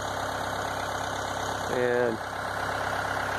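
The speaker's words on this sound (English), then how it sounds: "I got the tractor warming up" A Mahindra 2638 tractor engine idles while warming up on a cold, snowy day, giving a steady, close diesel drone throughout with a brief moment of voice over it.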